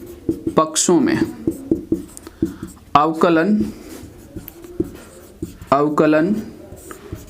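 A pen scratches and taps on paper as someone works through a differentiation problem, in quick short strokes close by, partly under someone speaking in Hindi.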